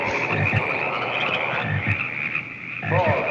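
Frogs croak in a rhythmic series of short, repeated low croaks inside the Slice 'N Dice video game, mixed with a steady game soundtrack and a voice talking over it.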